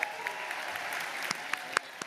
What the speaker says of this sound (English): Big round of applause for these folks